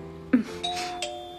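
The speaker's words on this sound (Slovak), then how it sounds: "Niekto zvoní." An apartment doorbell rings, a short two-tone ding-dong chime followed by a fainter repeat, heard clearly in a quiet room.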